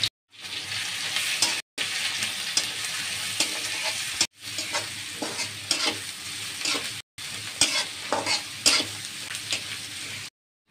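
Chopped onion and garlic fry in hot mustard oil with bay leaves for a pangas fish curry, giving a loud, steady sizzle broken by short pauses and stirring scrapes.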